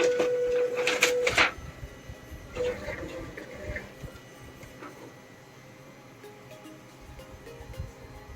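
A modified Epson L1800 printer feeds paper with a high whirring motor tone and mechanical clicks in the first seconds, then quieter clatter and faint movements follow.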